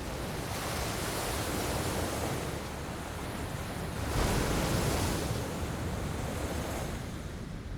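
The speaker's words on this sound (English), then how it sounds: "our shores would be pounded and pummeled by this relentless surf" Relentless winter sea surf pounds a British shoreline, a loud continuous roar of breaking waves with a heavier surge swelling midway and dying back, no voices.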